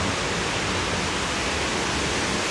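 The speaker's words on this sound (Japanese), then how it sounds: "滝の音がすごくうるさいかもしれないんですけど" A waterfall at a zoo in Hokkaido sends out a dense, steady roar of falling water, loud and close, with no break and no voices over it.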